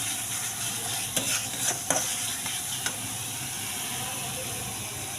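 Masala frying in a pan for an Odia fish curry, with steady loud sizzling and hissing and a few scraping clicks of stirring in the middle.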